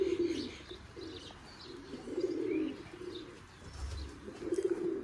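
Giribaz pigeons, including a large hen with young, coo in repeated low throaty bursts close by, with faint chirps from other birds in the background.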